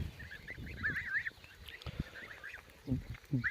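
Goslings honking and calling in a farmyard, a series of wavering nasal cries clustered in bursts with short gaps, moderately near and clear, with no speech.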